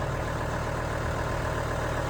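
An International 240 tractor engine idles with a steady, even low rumble, close and continuous with no talking.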